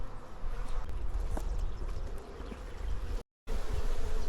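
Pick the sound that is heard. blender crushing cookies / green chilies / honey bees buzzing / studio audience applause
honey bees buzzing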